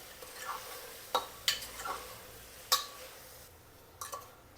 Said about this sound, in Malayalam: നമ്മുടെ സോയാബീനും കൂടെ നല്ലതുപോലെ ഒന്ന് വഴറ്റാം